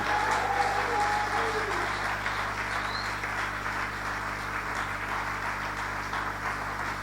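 A church congregation applauds and cheers in praise of the Lord, a dense, sustained wash of clapping filling the room, with a voice faintly audible beneath it.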